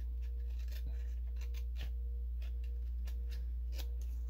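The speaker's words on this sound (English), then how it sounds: "I want to use my little scissors for this." Small scissors trim an upcycled Christmas card, giving a string of quiet, crisp snips at an uneven pace over a steady low hum.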